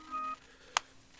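A phone gives a short electronic tone or beep, then a single sharp click-like burst, faint and alone in a quiet room just before the call is picked up.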